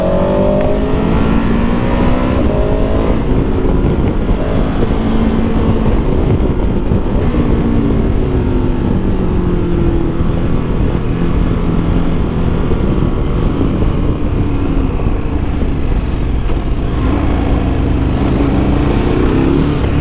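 A 2023 KTM 1290 Super Adventure S motorcycle engine is ridden at speed, its loud, steady drone rising and falling through gear changes against continuous wind rush for the whole stretch.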